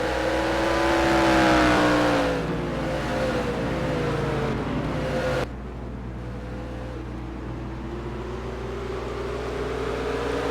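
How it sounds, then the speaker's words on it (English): Race cars lap Martinsville in the NASCAR Racing 2003 video game, engines droning and whining as one passes close, its pitch sliding down, then a steadier, quieter hum of the pack continues under a constant low tone. "Pulling away now is Rudd. As we come around to complete the halfway lap, lap 25"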